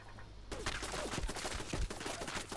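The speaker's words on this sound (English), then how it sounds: "Your house is shooting at me." In a video game, a house turret fires at the player: bursts of rapid gunshots crackle in quick clusters, fairly faint and distant in the mix, with no talking.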